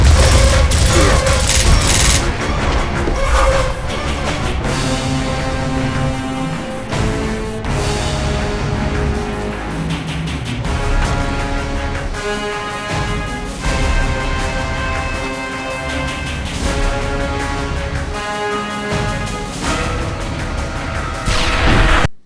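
Heavy gunfire and explosions from Gears of War, a dense, continuous wash of shooting, booms and battle noise with music layered under it, loud throughout and ending abruptly.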